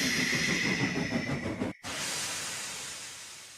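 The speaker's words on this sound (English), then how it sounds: "And he let off steam with relief." A steam locomotive lets off steam in a long, loud hissing whoosh that cuts out briefly and resumes as a steady, fading hiss.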